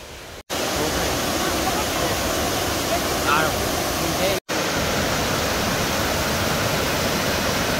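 Waterfall on the Río Sonador, a steady, loud roar of falling water heard up close, broken by two brief dropouts, with a voice speaking faintly over it.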